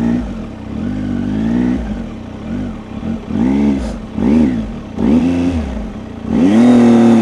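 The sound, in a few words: motorcycle riding slowly with bursts of throttle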